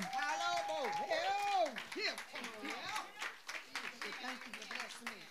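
Church congregation clapping hands in praise during a service, scattered claps mixed with a loud voice and organ-like tones throughout.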